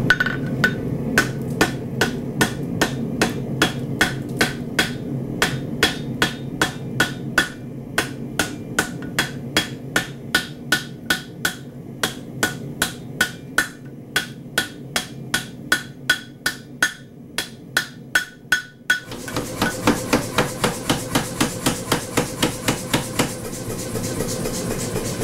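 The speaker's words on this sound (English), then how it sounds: "We'll be using the traditional hand hammer and anvil" A blacksmith's traditional hand hammer strikes steel on an anvil while forging pillars, ringing out in dozens of sharp, evenly paced blows that keep a steady rhythm throughout and grow denser and louder toward the end.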